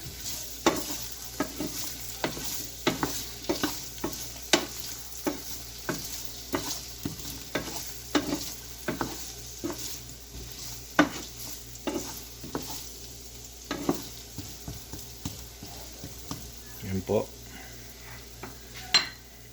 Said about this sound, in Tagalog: Lagay na po natin ng ating carrots. Tapos, haluin-haluin lang po natin.